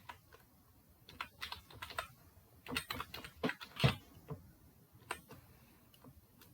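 Steady bursts of keystrokes on a computer keyboard, clicking close and crisp in uneven runs with short pauses between them, alone with no voices.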